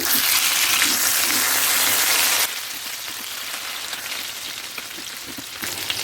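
Small hilsa fish frying in oil, giving a steady loud sizzling hiss that drops to a quieter, crackly bubbling partway through before swelling slightly again near the end.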